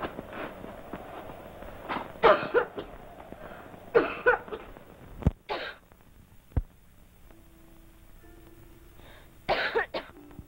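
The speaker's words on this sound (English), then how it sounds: "It's only the cough." A girl's dry coughs come in several separate bursts across a quiet dormitory scene at night in a 1970 Jane Eyre film, close and moderately loud, with soft background rustle between them.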